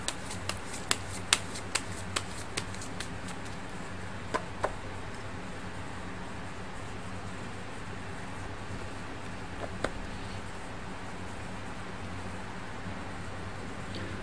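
Tarot cards shuffled close by, a quick run of crisp riffling snaps at the start and a few isolated flicks later, over a steady low background hum with no talking.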